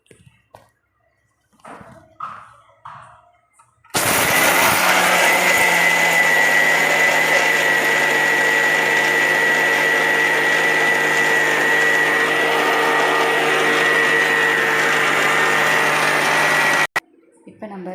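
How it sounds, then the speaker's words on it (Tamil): A kitchen mixer grinder whirs loudly and steadily for about thirteen seconds grinding coconut chutney, starting abruptly after a few soft bumps and stopping just as suddenly. "இப்போ நம்ம சட்னி அரைச்சிடலாம்"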